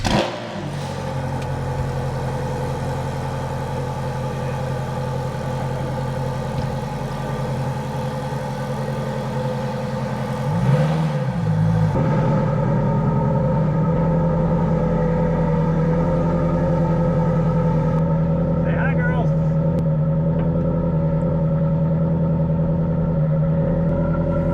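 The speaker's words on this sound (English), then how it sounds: "All right, let's fire this bad boy up." A Ferrari F430 with an aftermarket exhaust cranks and fires up, then settles into a loud, steady idle with a brief rev blip midway, close and alone with no talk.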